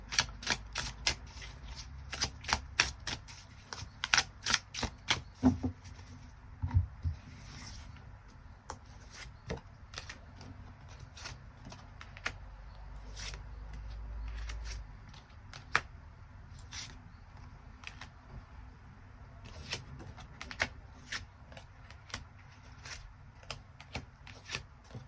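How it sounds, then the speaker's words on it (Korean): Tarot cards shuffled and drawn by hand, crisp rapid flicks and snaps in bursts, dense and close at the start and around the middle, thinning to scattered taps with a soft riffling wash between them. "추가 카드 뽑아보도록 하겠습니다"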